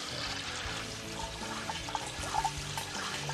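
Murky water poured through a homemade gravel, sand and charcoal filter, a steady trickling pour running under low background noise with a few faint knocks.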